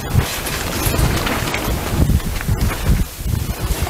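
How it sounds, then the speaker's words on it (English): Strong wind buffets the microphone with a constant rough roar and gusty low rumbling, no voices present. "This wind is terrible."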